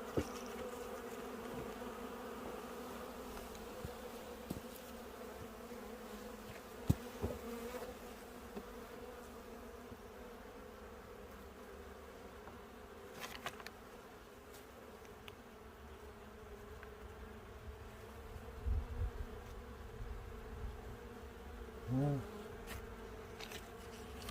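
Honeybees drone in a low, continuous buzz while being shaken into a new fixed beekeeping hive during winter hive transfer, a faint steady hum with occasional light knocks.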